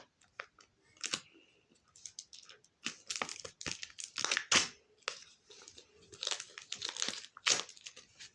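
Crinkly plastic packaging of a Labubu surprise toy being pulled and torn in several short, rustling bursts, close by, with small pauses between tugs.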